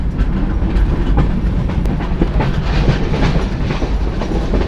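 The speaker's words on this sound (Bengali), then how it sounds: "এই যে আমাদের ট্রেন চলা শুরু করলো" The Sagardari Express intercity train rumbles along the tracks near Paksey station, a loud heavy low roar with steady clattering wheels heard from inside the moving train.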